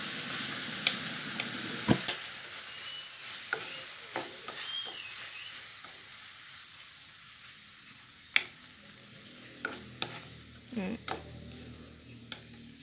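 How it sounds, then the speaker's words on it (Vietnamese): Vegetarian fried tofu-skin fish being stirred through a sweet-sour sauce in a pan, with a soft steady sizzle under a series of distinct scraping and clinking stirs spread across the whole stretch, close and moderately loud. "Các bạn chỉ cần đảo cho nó thấm khoảng chừng từ 1 đến 2 phút ha, là cho nó thấm vô đây là được"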